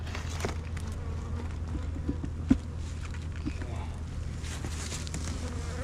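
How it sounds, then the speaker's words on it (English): Honey bees crowding a hive box during an almond pollination check give a soft, steady buzzing drone throughout, with a few faint knocks and one brief sharp tap. "This thing is just full of bees."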